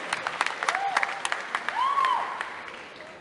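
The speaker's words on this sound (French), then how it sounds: "On peut l'applaudir, je pense." Applause from a conference audience at a 2009 Mang'azur dubbing event tribute, a steady patter of many hands with a few whistle-like tones rising over it, fading toward the end.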